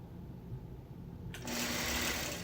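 After a near-silent stretch, a sewing machine starts up and runs with a steady, close mechanical whir while quilting a curvy motif into a quilt.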